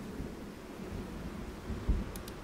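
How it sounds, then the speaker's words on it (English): Torrential rain in Jurassic World Evolution 2, a steady dense hiss of heavy downpour with a low rumbling undertone, constant and fairly close, with no voices. "it like instantly turned to rain as soon as you did that"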